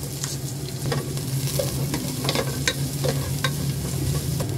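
Ginger, garlic and onion sizzle steadily in hot oil in a cooking pot for chicken tinola, with a constant frying hiss and a few sharp crackles and stirring scrapes throughout.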